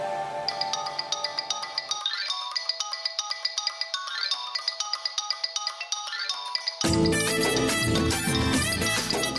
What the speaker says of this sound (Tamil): மாப்பிள்ளை சார் கொடுத்த போன் அடிக்குது.